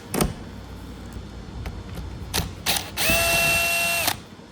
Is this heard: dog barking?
no